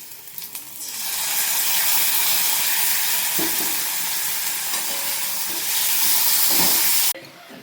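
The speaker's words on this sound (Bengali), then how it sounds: "দেখো গাইস এখানে দিয়ে দিয়েছি আমি সর্ষে বাটা" Mustard paste sizzling loudly as it fries in a pan with lightly browned onions, while cooking a village-style poyal chhatu dish. The hiss holds steady for about six seconds, then cuts off abruptly.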